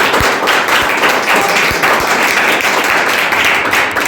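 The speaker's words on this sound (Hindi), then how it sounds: "तो जोरदार तालियों के साथ" Audience applause welcoming students selected in the SSC-GD written and physical exams: dense, steady clapping from a crowd throughout, fairly loud and close, with a few sharper individual claps standing out.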